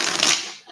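A deck of cards is riffled and shuffled in one brief, close, crisp flutter that trails off quickly.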